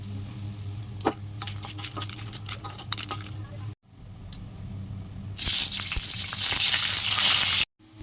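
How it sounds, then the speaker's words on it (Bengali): Papad, eggplant and bori lentil dumplings frying in oil produce a moderate crackle that swells midway into a loud, dense hissing sizzle before cutting off abruptly. "এবার আমি পাঁপড়, বেগুন আর বড়ি ভাজবো"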